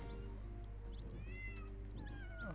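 A cartoon cat meows repeatedly in the Flash version of the Tasty Planet video game, several short rising and falling calls over a constant electronic game background hum.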